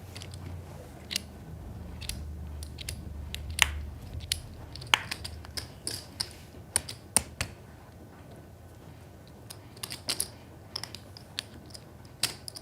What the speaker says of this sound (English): What's that noise? The shuffler?